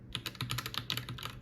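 Rapid, steady keystrokes on a computer keyboard while text is entered during FPGA project testing, a run of close, fairly quiet clicks with an even rhythm and no talking.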